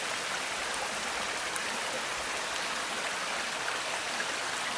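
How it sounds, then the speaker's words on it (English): A waterfall on a wild rice trail, with icicles nearby, pours in a steady, even hiss of falling water, moderately close and continuous, with no talk. "I didn't think we had enough downward path to have a waterfall like this yet."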